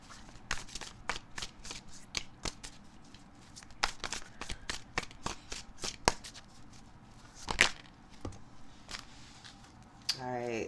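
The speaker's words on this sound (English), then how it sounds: "let's get your first card for love for Ophiuchus" Tarot cards shuffled by hand for a reading: a close, rapid run of crisp riffles, snaps and slaps in uneven bursts, with a brief low murmur near the end.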